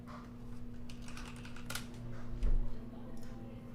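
Rapid typing on a computer keyboard, close and clear, with keys clicking in uneven bursts over a low steady hum.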